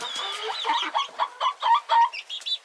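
Nearly full-grown homestead chickens near the coop make a quick run of close, loud clucks and short squawks, several birds overlapping with no talk.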